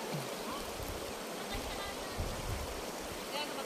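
Steady rushing of a flowing river fills the scene, a broad continuous wash heard up close with faint other sounds beneath it.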